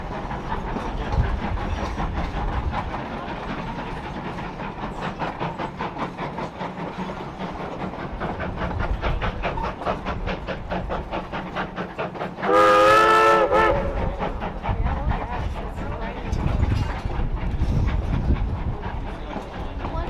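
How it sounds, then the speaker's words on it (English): A Durango & Silverton Railroad steam train chugs up the street into Silverton with rhythmic puffing and clacking, then a loud steam whistle blows briefly before the steady chugging resumes. "the trains go right up the street into Silverton, which is quite unique and quite fun."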